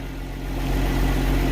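A tractor engine runs steadily at close range on a farm beside a sorghum field, a low rumbling idle that swells slightly and holds without any speech.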